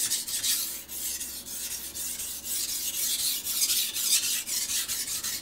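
A kitchen knife is sharpened on a Shapton Pro whetstone, the steel heel sliding over the wet stone in steady, close, rhythmic rasping strokes.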